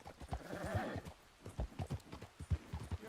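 Horse hooves clip-clop in an irregular trotting rhythm in Red Dead Redemption 2, close and distinct, with a brief whinny early on and no talking.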